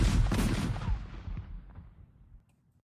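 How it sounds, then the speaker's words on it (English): A single heavy cannon blast booms out loud and close, its low rumbling roar trailing off over about two seconds into silence. "So just for that, you get another cannon blast."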